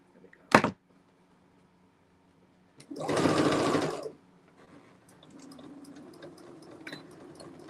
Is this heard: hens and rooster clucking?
no